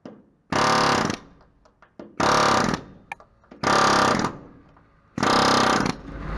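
A pneumatic rivet removal tool hammers against a rivet during a roof raise job in four loud, evenly spaced bursts of rapid percussive rattling, each about half a second to a second long, with quiet gaps between them.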